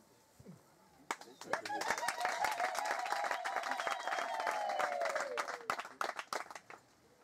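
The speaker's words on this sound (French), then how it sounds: "elle aussi peut se mettre debout pour l'applaudir" An audience in a hall rises to applaud a visitor at a peace centre event in the DR Congo, sustained mixed clapping with crowd noise and a voice rising above it, fading out after about six seconds.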